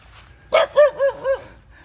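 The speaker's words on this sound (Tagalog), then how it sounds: "ang aso na to." A dog close by gives a quick burst of four sharp, loud barks in succession, then falls quiet.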